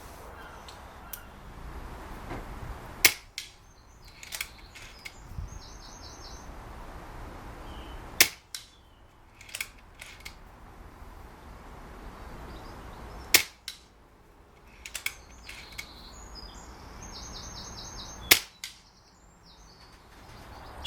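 Shots from an FX Wildcat MK3 compact bottle air rifle (UK sub-12) at a target on an outdoor range: four sharp, fairly quiet cracks spaced several seconds apart, each with a short metallic tail, separated by faint ambient background.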